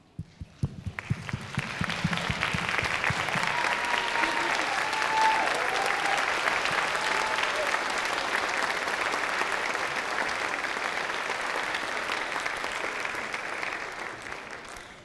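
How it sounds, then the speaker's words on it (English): Sustained applause from a school awards-night audience standing for their children, broad and dense, holding steady for about fifteen seconds before tapering at the end, with a few early claps and voices at the start. "give them a round of applause"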